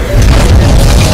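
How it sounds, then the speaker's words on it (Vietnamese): A bomb explosion in an animated Skibidi Toilet battle, a loud, dense low boom that swells quickly and rumbles on without a break. "hắn ta đang thả bom về phía này"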